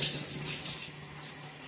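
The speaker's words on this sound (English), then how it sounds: "I'm gonna take a shower" Shower water running steadily, a soft continuous hiss of spray close by with no talking.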